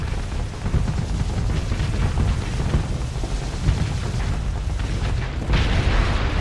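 Missiles strike a ship in the space game Starsector, producing a dense, continuous rumble of booming explosions with a heavier burst near the end.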